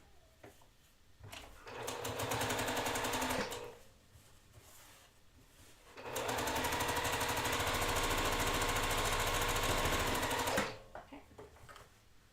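A sewing machine stitching quilt fabric along a quarter-inch seam runs in two loud, steady bursts of rapid needle clatter separated by a quieter pause, with a brief spoken word near the start.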